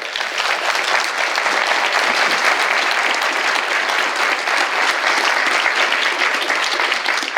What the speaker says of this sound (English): can everybody give a big round of applause?